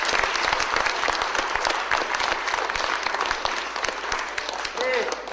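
Audience applause after a talk at a local conference, dense and continuous clapping from a room of people, loud and sustained throughout with a voice briefly audible.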